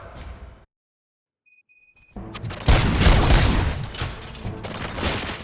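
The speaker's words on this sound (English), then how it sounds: "Gunshots? What's going on?" Gunfire in the video game Robocop: Rogue City: after a brief silence with a few thin electronic tones, a loud, dense burst of booming shots and impacts erupts and continues as a sustained barrage.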